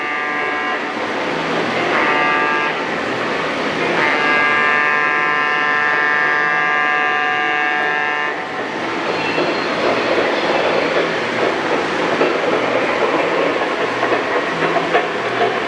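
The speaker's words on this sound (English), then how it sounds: "this train gets done, and we got another one coming?" A model train runs past on a club layout, a continuous rolling rumble of wheels on track with a high squealing tone for several seconds, fairly loud and close throughout.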